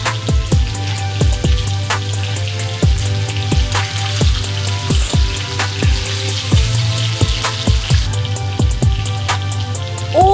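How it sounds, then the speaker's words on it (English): Salmon bites searing in a pan give a steady, loud sizzle with scattered pops and crackles of hot fat running throughout, close up and with no talking over it. "Ooh, this thing is sizzling."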